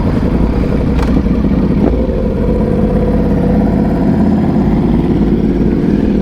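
Motorcycle engine rumbling steadily and loud at low speed while riding around a crowded vendor parking lot at a bike meet during Daytona Bike Week, continuous throughout with no talk.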